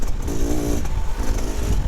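A Beta 2024 Xtrainer 300 two-stroke trail bike cruises uphill off-road with its engine barely working, a loud close steady drone with a brief rising tone early before settling back to a low, even run.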